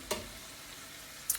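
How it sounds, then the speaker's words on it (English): Wine simmering in a pan for scampi gives a soft, steady low sizzle, with two brief clinks of a utensil near the start and end. "you just kind of want to cook your wine, like I said, for 3 to 4 minutes to kind of burn off that alcohol"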